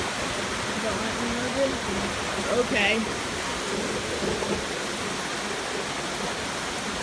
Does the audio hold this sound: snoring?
no